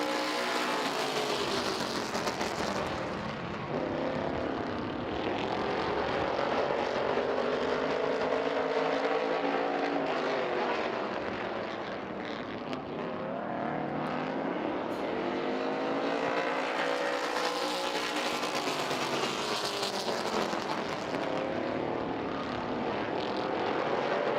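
Race cars circle the Chemung Speedrome oval track, their engines swelling loudly as the pack sweeps past, easing off, then building again on the next pass in a continuous droning roar.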